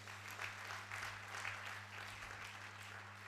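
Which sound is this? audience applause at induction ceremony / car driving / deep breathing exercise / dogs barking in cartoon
audience applause at induction ceremony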